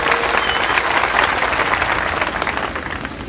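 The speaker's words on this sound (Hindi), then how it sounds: "एक बार जोरदार ताली बजाकर स्वागत करें।" An audience at a Mahan Dal political gathering in India breaks into loud, dense applause to welcome a speaker. The clapping carries on for a few seconds and eases off slightly at the end.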